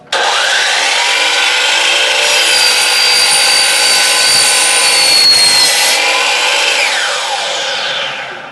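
A power saw cuts through wood in a workshop while parts for a robot drivetrain are being built, producing one loud, steady, continuous whirring rasp that runs unbroken for several seconds before tapering off at the end.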